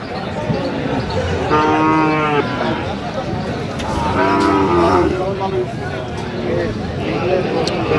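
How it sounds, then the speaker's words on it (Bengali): Sahiwal cattle at a livestock market low in repeated drawn-out moos, loud and near, with two long calls and fainter lowing over the crowd noise and voices of the market. "এখানে বেশ সুন্দর গরুগুলো।"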